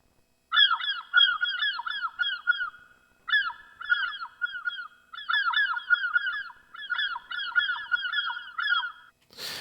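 A synthesized flock of birds honks and chatters in overlapping waves, with a few short gaps and no voices.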